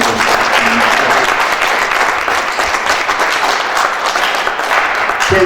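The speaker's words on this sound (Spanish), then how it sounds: "un aplauso nuevamente a todos los invitados" An audience at a Mexico City cultural event on political song applauds its invited guests, loud sustained clapping from many hands filling the room, with faint voices mixed underneath.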